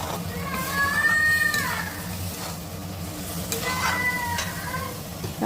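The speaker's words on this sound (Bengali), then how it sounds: "পোস্ত বাটাটা দিয়ে ভালো করে নাড়াচাড়া করতে হবে, একটু যেন ভাজা হয়ে যায় পোস্তটা" Poppy seed paste sizzles and fries in a pan as it is stirred for aloo posto, a steady crackle with scraping strokes, while bird-like chirps and background voices sound intermittently.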